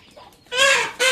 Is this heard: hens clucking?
yes